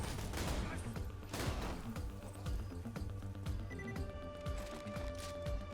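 Rapid shotgun blasts from a seven-shot Jakobs coach gun in the video game Borderlands 2, dense overlapping booms amid explosions and game effects, with a voice talking faintly underneath.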